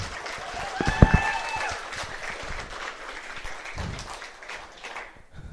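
Audience applause at a stand-up comedy showcase, with clapping and some cheering, steady for several seconds before fading, with a brief loud whoop near the start.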